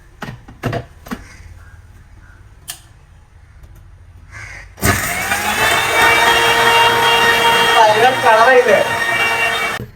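A mixer grinder grinding coriander and fennel spices to powder starts abruptly after a few quiet handling clicks, then runs loud and close as a steady whining motor roar until the end.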